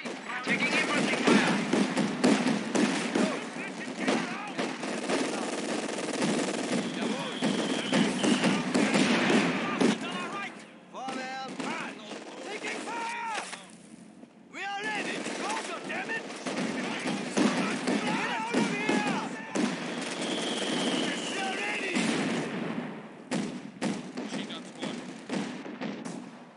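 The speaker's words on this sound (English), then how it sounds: "We have contact! Taking infantry fire!" Infantry rifle and machine-gun fire crackle in bursts through a Company of Heroes 2 battle against an easy AI, with thumps and game voices shouting over the shooting and a brief lull midway.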